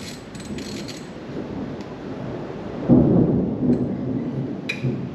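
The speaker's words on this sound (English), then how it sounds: "I think we're in for a hell of a storm in 10 minutes" Low, rolling thunder of an approaching storm rumbles in the distance, swelling louder partway through, with a broad wash of rain-like noise underneath.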